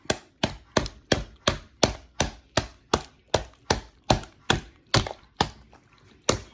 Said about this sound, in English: Just gonna whack it.